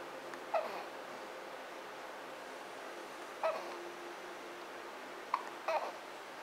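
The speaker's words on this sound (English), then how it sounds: "He's got hiccups." A one-month-old baby hiccups, four short, soft hiccup sounds spaced a few seconds apart over quiet room tone, with the last two close together.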